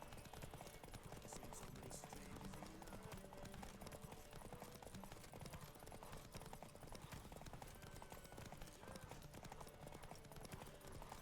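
Roach the horse galloping along a road in The Witcher 3: Wild Hunt, a continuous rhythmic clatter of hooves with a faint whinny, set in a dense, busy game soundscape.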